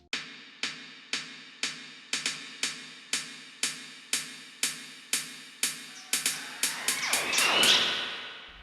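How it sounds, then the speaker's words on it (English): An offbeat darkwave hi-hat pattern ticks in a steady, even rhythm of crisp, close hits, then a rising swept noise swells over the final seconds. "at the beginning of the drums, I have it starting out with some hi-hats"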